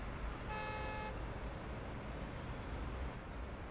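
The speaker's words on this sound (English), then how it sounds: "Is he honking?" A vehicle horn gives one short, steady toot in a truck driving video game, heard clearly over constant low engine and road rumble.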